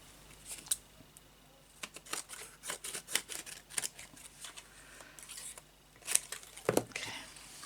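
Scissors snip through card stock while copper bauble ornaments are being made, giving a run of short, crisp cuts and paper rustles in an irregular rhythm, close to the microphone and fairly quiet, with no talking.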